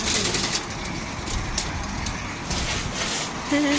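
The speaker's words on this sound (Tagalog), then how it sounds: "Kalapati." Pigeons coo amid a dense, noisy outdoor background of traffic and bustle in San Francisco, their calls partly masked by the din.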